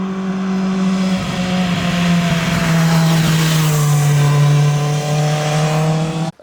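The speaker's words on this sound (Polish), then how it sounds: "redukujecie biegi wykorzystaniem quick shiftera, bez wykorzystania w jakikolwiek sposób sprzęgła, ale z lekko otwartą przepustnicą" A QJ Motor SRK 921 motorcycle drops through gears using its quick shifter without the clutch, throttle slightly open, a loud close engine tone that jumps at each downshift before cutting off abruptly.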